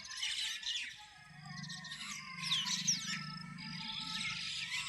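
A flock of birds gathers at a village bus stand in Shembal Pimpri to peck at scattered rice, chirps and squawks overlapping at a moderate distance over a low steady hum.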